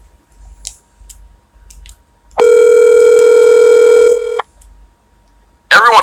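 A loud, steady telephone dial tone holds for about two seconds, preceded by faint clicks and followed by a short burst of another electronic tone at the end.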